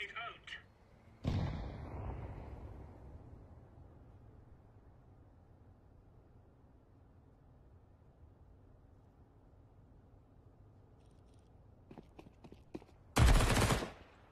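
A single Counter-Strike 2 grenade detonates with a sharp loud blast and a long fading rumble, followed later by quick clicks and another sharp burst. Players talk faintly at the start.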